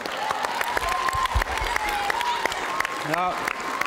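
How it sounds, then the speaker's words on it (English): An audience at a high school event breaks into a round of applause, a dense crackle of clapping with a voice briefly rising over it near the end. "Let's give them a round of applause."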